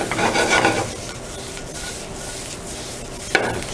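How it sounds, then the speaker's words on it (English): Minced garlic and mirin sizzle in a pan for stir fry fish with black bean sauce, a steady close frying hiss with scraping stirs and a sharp utensil clink near the end, no talking. "once the garlic cooks off real quick, we're gonna lower the heat and add in the mirin and let the alcohol cook off"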